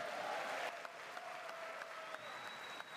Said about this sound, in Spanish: el Congreso de Estados Unidos lo recibió con una ovación